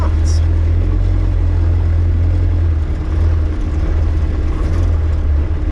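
Diesel engine of a right-hand-drive TJ Wrangler off-roading, a loud steady low rumble and drone heard from inside the cab, with people talking over it.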